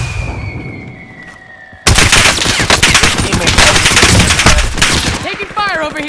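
Loud sustained automatic gunfire erupts in a Call of Duty zombies royale match, a dense close barrage that starts abruptly after a quieter moment and ends in a few trailing effects.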